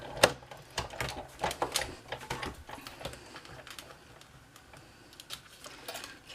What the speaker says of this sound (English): and then we're going to cut that through the big shot.